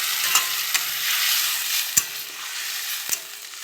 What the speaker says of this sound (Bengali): দেখো ধনে পাতাটা হয়ে গেল একটু ভাজা ভাজা, এটা আর তীব্র গন্ধ ছড়াবে না